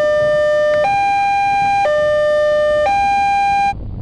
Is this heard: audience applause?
no